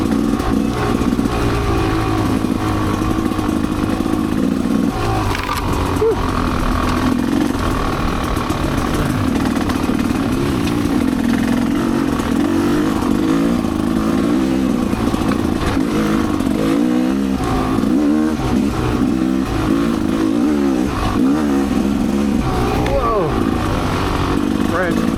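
A Rieju MRPro / Gas Gas EC300 two-stroke dirt bike engine runs continuously on a long downhill trail loop in Michigan, with a steady buzzing drone that rises and falls slightly, recorded close from the rider's position.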